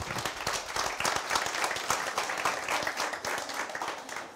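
Audience applause at a graduation ceremony for a master's degree in senior management, a steady wash of many hands clapping with dense overlapping claps, moderately loud and continuous throughout.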